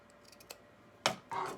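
Scissors snipping off excess bias binding on a sewn bag, a few faint clicks followed by a sharp close cut and a brief rasping slide of the blades.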